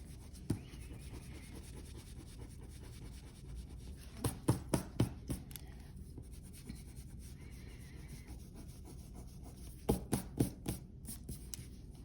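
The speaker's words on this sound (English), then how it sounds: "it says erase the diagonal lines" Pencil lines rubbed out with an eraser on a sheet of drawing paper, heard as two short bursts of brisk scrubbing strokes over a quiet room background.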